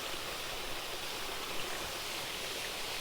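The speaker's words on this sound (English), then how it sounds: "There's a little cave down there where the water runs into." A stream runs into a small cave in the Pennine Way countryside, giving a steady, even rush of flowing water that stays constant and fairly soft throughout, with no voices.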